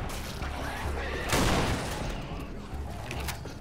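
Gunfire in the Left 4 Dead 2 video game, a muffled burst of shots peaking briefly amid a busy rumbling game soundscape, moderately quiet.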